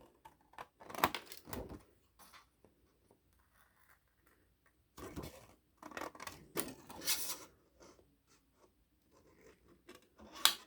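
Scissors snip through a sheet of shrink plastic by hand, quiet close-up bursts of cutting and rustling between silent pauses.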